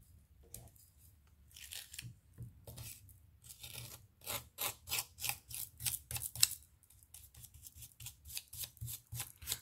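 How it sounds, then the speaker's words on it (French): Rubbing and scrubbing strokes on a wooden Christmas perpetual calendar piece while applying a snow effect, a run of quick, dry, rasping brushes in rhythmic bursts, close and moderately loud, with no talking. "là, je frotte tout en donnant un petit effet"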